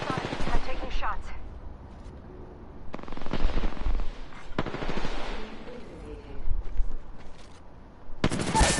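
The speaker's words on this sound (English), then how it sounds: "Getting shot at." Video game gunfire rattles in bursts of rapid machine-gun fire and single shots, some close and loud, others farther off, while players talk over the action.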